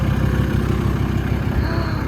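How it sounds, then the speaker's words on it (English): A 1997 Volkswagen T4 van's roughly thirty-year-old engine runs steadily and loudly at idle, a close, continuous low throbbing rumble with no talk over it. "Start the engine."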